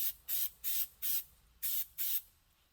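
Oil sprayed onto the air filter of a 1969 Yamaha DS6 two-stroke bike, heard as five short, close hissing bursts in an uneven rhythm with brief quiet gaps between them.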